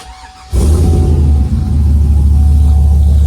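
A GMC Yukon SUV engine with a modified exhaust cranks and catches, then settles into a loud, deep, rumbling idle that holds steady close by.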